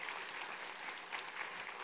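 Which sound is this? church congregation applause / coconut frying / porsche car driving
church congregation applause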